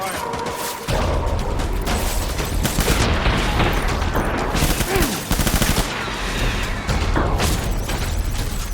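Sustained gunfire in the video game Death Stranding, dense bursts of rapid shots and booms running almost continuously at close range, loud and crowded, with a faint voice briefly beneath.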